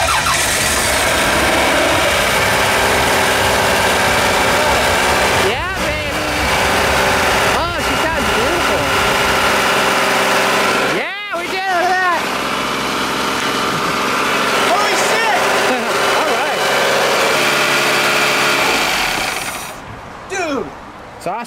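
A rebuilt Toyota 5SFE 2.2 engine cranks and fires up, then runs roughly near and loud, with several sputters and a brief stumble before settling into an idle, while people talk over it.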